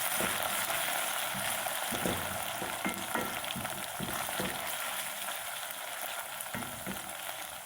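Garlic and green chillies fry steadily in a pan, a continuous bright sizzle with occasional soft stirring knocks, close and even throughout.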